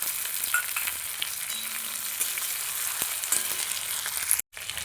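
Chopped green chillies fry in a pan of hot oil with a strong, continuous sizzle and occasional stirring clicks, and it cuts out briefly near the end.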